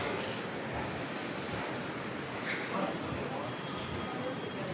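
A large, clean train station in Morocco gives off a steady, even wash of hall ambience, a constant broad hum and murmur with no distinct events standing out.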